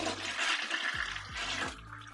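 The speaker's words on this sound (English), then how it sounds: "All right, so we're gonna flush this." A household toilet flushes close by, a loud rushing gush of water swirling down and then tapering off, with no one talking.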